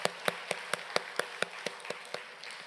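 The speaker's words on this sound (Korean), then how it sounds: "소망의 박수 올려드리겠습니다." Congregation in a Korean Sunday morning church service clapping in unison, a steady rhythmic series of about a dozen evenly spaced claps, fairly quiet and slightly slowing toward the end.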